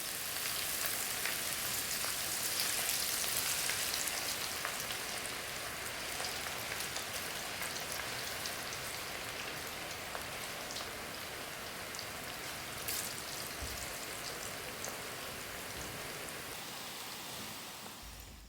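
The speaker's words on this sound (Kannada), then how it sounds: "ಇವಾಗ ಎಣ್ಣೆ ಕಾದಿದೆ. ಇವಾಗ ಇದನ್ನು ಎಣ್ಣೆಗೆ ಹೀಗೆ ನೀಟಾಗಿ ಬಿಡಿಯಾಗಿ ಬಿಡಬೇಕು" Onion pakoda batter deep-frying in hot oil: a steady, dense sizzle and crackle that holds evenly throughout with no voices.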